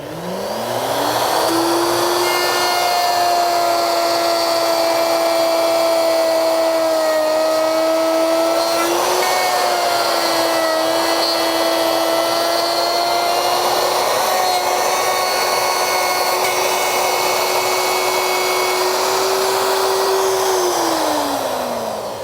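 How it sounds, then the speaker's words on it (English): A power router spins up and cuts a stopped dado groove in a wooden board, a loud, close, steady whine that holds for about twenty seconds before winding down. "So now when I route this groove, this dado rather, it'll come up, bump against the stop block"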